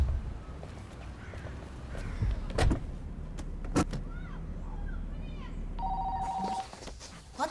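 A telephone rings briefly near the end of a scene in a Russian comedy series. Before the ring come car and door movement noises and scattered knocks under steady background hum.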